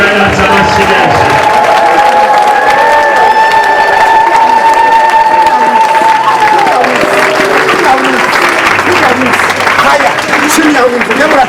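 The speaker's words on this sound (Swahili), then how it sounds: "Shangilia Yesu kwa makofi." A church congregation claps and cheers in praise of Jesus, loud and sustained applause with crowd voices and singing mixed in throughout.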